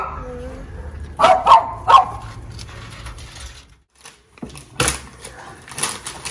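A dog barks in a quick cluster of three near barks, then again after a pause, outdoors in a home garden over a low background hum.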